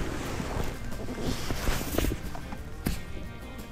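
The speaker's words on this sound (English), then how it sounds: "Speed, wind picks up." Wind gusts rush over a moving fishing boat on the Lake of the Ozarks, making steady broadband buffeting and microphone wind noise. A few faint knocks and thumps from the boat sound through the rushing air.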